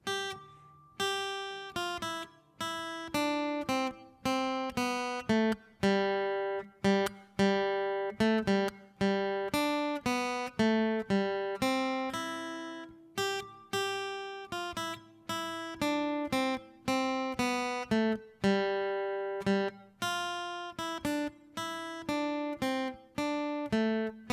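A solo plucked guitar plays the slow melody of "Away in a Manger" in three-time, clear single notes over low bass notes, close and unaccompanied, with no voices.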